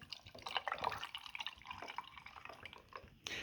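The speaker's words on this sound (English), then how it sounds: "we're going to pour it into our waiting glass of ice." Shaken iced toasted vanilla oat milk espresso pours from a shaker into a glass of ice, a close, steady trickle with dripping and ice clinking, ending with a brief louder splash.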